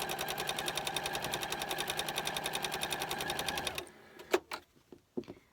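A sewing machine sews a straight seam on scrappy crumb quilt fabric, chattering in a fast, even rhythm for several seconds before it stops, followed by a few quiet clicks and thumps.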